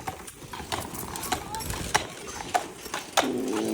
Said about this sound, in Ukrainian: ми обганяємо зараз коників